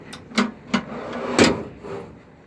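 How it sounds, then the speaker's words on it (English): A tackle drawer on a DNA 590 boat slides and knocks, giving a few short hard clunks and a sliding rattle close by, with no talk over it. "Tackle drawer."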